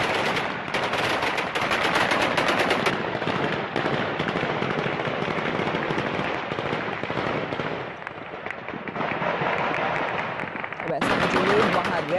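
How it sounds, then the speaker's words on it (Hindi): Bursts of gunfire from gunmen firing into the air outside Hamid Karzai airport in Kabul, rapid crackling shots in continuous volleys across the whole stretch, loud and somewhat distant, with voices in the background. "बंदूकधारी हवा में गोलियां बरसा रहे हैं।"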